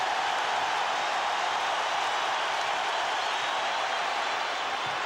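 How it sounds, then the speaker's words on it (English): Steady wash of applause from a large arena crowd at a 1991 NBA Finals basketball game between the Bulls and Lakers, continuous and fairly even throughout, with no distinct voices standing out. "Crowd applauding the efforts by Pippen"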